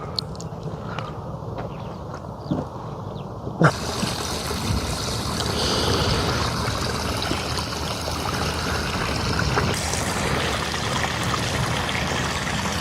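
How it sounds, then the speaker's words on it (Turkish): Water runs and trickles steadily, faint at first with a few knocks, then a loud continuous rushing stream fills the rest, close by. "Bu su böyle nereden geliyor?"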